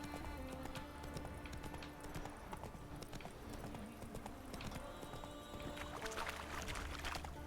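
Horse hooves clip-clopping at a steady trot in The Witcher 3, rhythmic and close over ambient game sound and music, with a short neigh-like sound near the end.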